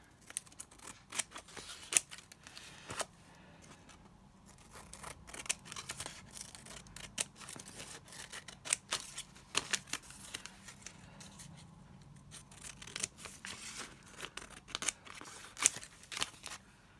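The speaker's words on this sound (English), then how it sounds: "And I'm going to cut it to the same size as the book paper." Scissors snip steadily through paper for a craft journal page, a long run of crisp close cuts in uneven bursts with short pauses and no talking.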